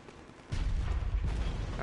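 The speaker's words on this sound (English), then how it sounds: "I'm gonna shoot both of these cannons." Cannons fire in the video game Bloodborne, a heavy booming blast that starts abruptly and rumbles on loudly with sustained low-end roar, no talk over it.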